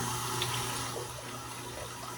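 A kitchen garbage disposal runs with water pouring from the tap, giving a steady low motor hum beneath the constant rush of water into the sink.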